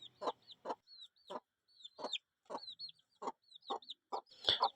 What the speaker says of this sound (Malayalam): ഇത് ഏകദേശം ഒരു 3 മാസമായിട്ടുള്ള കോഴി കുഞ്ഞുങ്ങളാണ്.